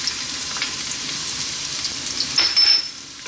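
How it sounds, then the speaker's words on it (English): Garlic and ginger fry in hot sesame oil in a wok over high heat, a steady close sizzle that flares louder for a moment near the end. "The first thing we want to do is drop in our garlic and ginger."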